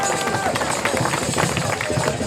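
Lively crowd applause at an outdoor folk music night, dense rapid clapping mixed with crowd babble, loud and close for a couple of seconds.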